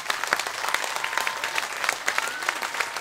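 Audience applause at a gospel and swing dance team gala, brisk and lively with distinct individual claps, sustained for a few seconds.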